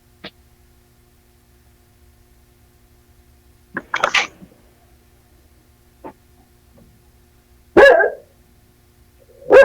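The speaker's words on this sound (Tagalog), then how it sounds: "Nagalit na aso mo dyan." A dog barks angrily at what it takes for someone outside, several sharp separate bursts spaced across a quiet room, with the loudest bark near the end, no talking in between.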